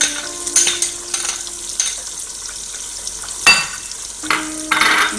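Chicken sauce frying in a pan after fresh pepper goes in, stirred with repeated scraping strokes of a utensil over a steady crackling sizzle, close and fairly loud.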